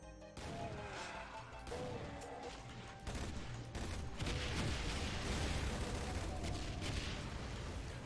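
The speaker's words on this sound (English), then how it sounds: "I do love the explosions from the barrels in this. They look and sound proper concussive." Barrels explode in the Doom mod Back To Saturn X, a retro first-person shooter, with repeated concussive booms and crashing blasts mixed with gunfire, loud and dense through the whole stretch.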